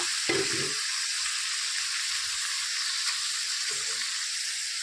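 Mixed vegetables frying in a tomato and spice paste in a pan, a steady bright sizzle that holds throughout, with a couple of soft low clunks of stirring or adding pieces.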